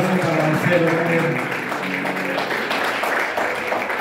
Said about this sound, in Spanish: Un aplauso para Marcelo Romero.